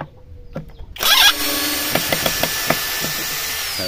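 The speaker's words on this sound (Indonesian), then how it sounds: "sekarang kita langsung mulai ke drilling ya" APR AP12+ cordless battery drill starting up with a sharp motor whine, then running steadily while drilling, with a series of clicks and knocks along the way, close and loud.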